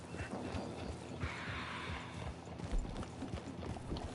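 A horse's hooves clatter in a quick, regular gallop in a video game, close and clear, with a brief whinny-like sound mixed in and no talking.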